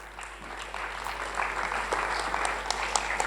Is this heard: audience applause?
yes